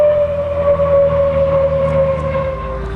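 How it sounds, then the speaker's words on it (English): A Spitfire landing at an Australian airshow produces a loud, steady engine drone with a strong tonal whine that slowly drops in pitch as it passes, sustained throughout without speech. "Spitfire landing from the left."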